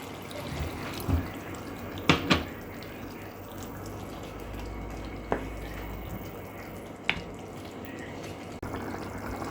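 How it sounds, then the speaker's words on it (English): Water poured into a pot of cooking curry with meat hisses and bubbles steadily, with a few sharp clinks and splashes over a constant simmering wash. "Now I add a little water."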